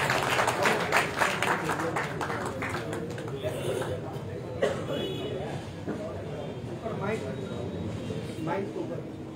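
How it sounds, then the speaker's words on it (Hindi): An audience at a live ward 25 election debate claps for two people, with dense, steady applause lasting several seconds while voices talk over it. "एक बार इन दोनों के लिए ताली बजा दो"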